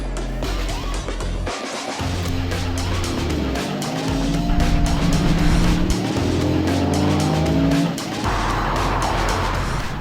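Toyota GR Yaris sliding on a race track, a continuous loud engine roar with tyres squealing through the slide, building in the middle and easing off toward the end, with no talking.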